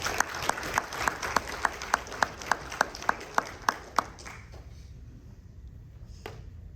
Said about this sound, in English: you would please give Bud a applause